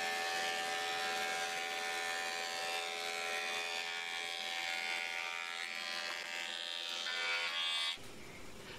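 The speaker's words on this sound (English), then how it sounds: "I took the material to my planer and milled it to the thickness I needed" A thickness planer milling boards of wood for a bookcase, a loud steady high-pitched machine whine with dense tonal harmonics running continuously, then dropping abruptly near the end as the cut finishes.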